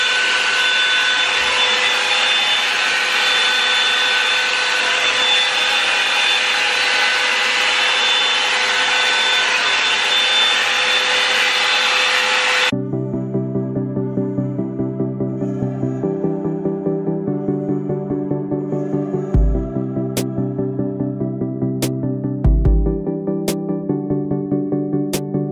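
Hot Tools Professional 24K Gold One Step hair dryer blowing loudly as a steady broadband whoosh for about half the time, then cutting out to a quieter lower hum with a few sharp clicks.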